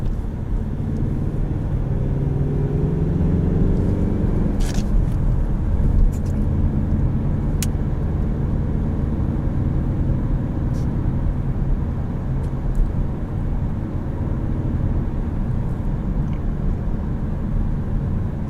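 A 2019 Ford Mustang EcoBoost with a 4-cylinder engine and manual transmission is driven, its engine giving a loud, steady droning rumble heard from inside the car. The pitch rises briefly early on and then holds even for the rest of the run.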